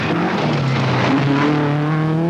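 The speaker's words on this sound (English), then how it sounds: "left-hand drive Ford Escort, number 8, Finland's Henry Toivonen, and he's dropped down the places because he's had a puncture." Left-hand-drive Ford Escort rally car on the 1979 Manx Rally, running after a puncture, its engine loud and close with a rising, strained tone as it drives past.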